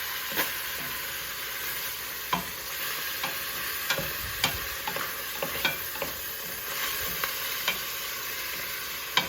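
Beef browning in a soup pot for vegetable beef soup, a steady close sizzle and hiss with occasional sharp pops and stirring scrapes, no talking.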